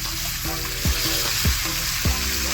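Fresh fish frying on a flat tawa over a wood-fired clay stove, a constant loud sizzle punctuated by three sharp scraping or flipping knocks at regular intervals, with no voices.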